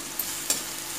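Onions and green chilies sizzle in a hot pan, a steady close crackle with a couple of brief scrapes from stirring, and no voices.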